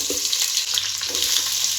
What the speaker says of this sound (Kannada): ಇವಾಗ ಈರುಳ್ಳಿ ಹಾಕ್ತಾ ಇದ್ದೀನಿ